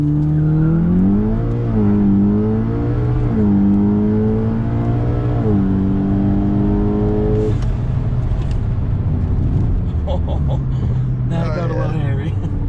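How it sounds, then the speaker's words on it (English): A built Subaru STI launches hard under launch control, its engine rising through several sharp revving climbs and gear shifts before backing off, loud and close inside the car, with voices talking and reacting over it. "Launch control engaged."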